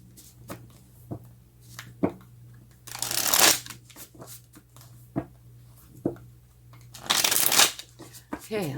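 Tarot cards being shuffled by hand, with soft riffling and tapping throughout and two louder, longer bursts of rapid shuffling, close and clear over a faint steady hum.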